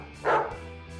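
A single short, bright dog bark in a LEGO Star Wars stop-motion scene, close and clear over a quiet background, with no talk.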